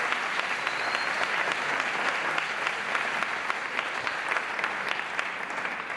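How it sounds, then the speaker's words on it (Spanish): Steady sustained applause from a crowd at an awards ceremony, dense clapping at an even level throughout, with no voices standing out. "un aplauso."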